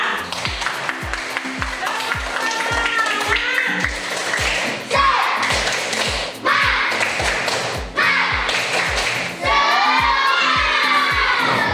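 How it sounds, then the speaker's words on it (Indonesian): Schoolchildren clap together in a classroom in repeated bursts, each a quick rhythmic run of sharp hand claps, loud and close, with children's voices and shouts mixed between the bursts. "Oke, sekali lagi tepuk tangan untuk kita semua."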